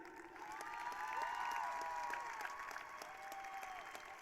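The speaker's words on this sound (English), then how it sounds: "Please join me in one big round of applause for our Justice Nelson Award winners" Steady applause fills a graduation ceremony hall as the audience claps for award winners at a 2022 high school graduation, a fairly faint, even wash of clapping with a few cheering whistles over about four seconds.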